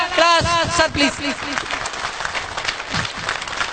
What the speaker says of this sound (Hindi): आपकी ताली बजनी चाहिए 1 मिनट तक